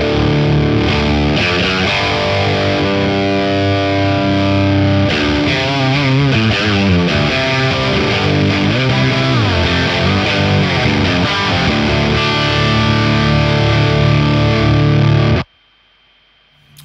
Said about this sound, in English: let's throw in the boost on top.